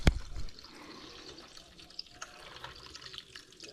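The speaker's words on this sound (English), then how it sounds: "you take this and you fill it up with water" Tap water runs steadily into a container to dissolve jerky seasoning for ground venison jerky, with a brief louder splash at the start followed by a soft, continuous trickle close by.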